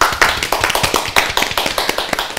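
Audience applause in a Bishkek entertainment show studio, dense overlapping hand claps at steady loudness across the short span, greeting a young singer, with no talking over it.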